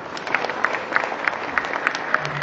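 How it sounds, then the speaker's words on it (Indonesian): An audience claps at a Balinese village ceremony where a regent hands over donations, a moderate, somewhat distant patter of applause with distinct claps standing out, and no talk over it. "mohon tepuk tangan dan terima kasih"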